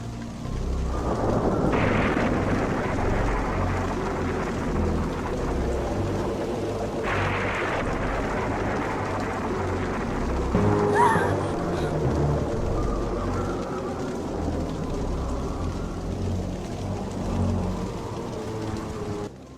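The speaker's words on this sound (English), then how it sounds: "Rain drenched her in a tremendous downpour as the sky roared with thunder and lightning." Heavy rain pours down steadily while deep rolls of thunder rumble in and out, loud and sustained throughout.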